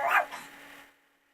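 A single dog bark sounds indoors at moderate distance, a short sharp yip that fades quickly into a faint hum.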